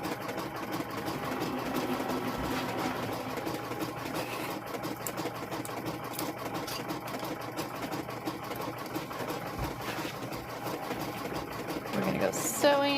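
A sewing machine stitches a chicken quilt in a steady, continuous run throughout, fairly close, with some background noise and a brief knock near the end.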